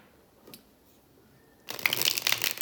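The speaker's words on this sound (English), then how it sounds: "So let's try to shuffle this deck," After a near-silent start, a mass market Wandering Star tarot deck is shuffled close by, giving a sudden burst of dense papery riffling and card slaps that continues to the end.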